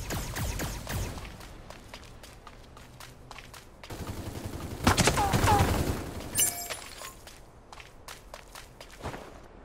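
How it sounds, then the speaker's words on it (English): Gunfire in the mobile mecha shooter Super Mecha Champions, scattered sharp shots and bursts mixed with footsteps and game effects, louder in the middle, with some voice in the background. "heard shots fired."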